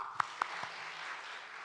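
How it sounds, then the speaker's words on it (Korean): An audience at a church summer Bible school gives a few sharp, separate hand claps, then a faint, steady wash of applause carries on quietly to the end. "박수."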